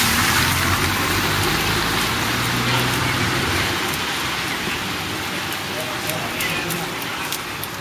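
Heavy rain pours down steadily in a dense, hissing wash that fills the whole scene, continuous and close, with no talking.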